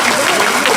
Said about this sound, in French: Ça s'applaudit quand on se lève.